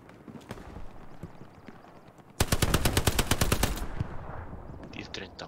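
Machine gun fire in the World War II shooter Hell Let Loose. It starts with scattered distant shots, then a sustained, rapid automatic burst erupts close by for over a second. Faint background noise and scattered shots follow.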